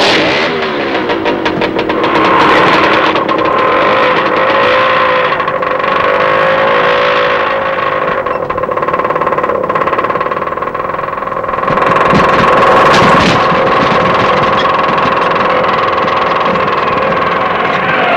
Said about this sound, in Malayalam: ഇതെന്റെ സ്കൂട്ടർ.